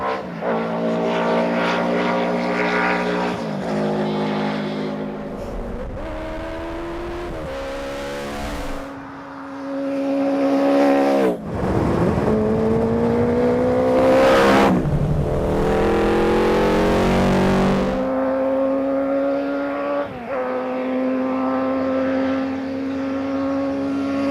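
A Honda CB400 motorcycle engine rumbles and revs up and down repeatedly, with rising and falling pitch sweeps, loud and close, and no talking.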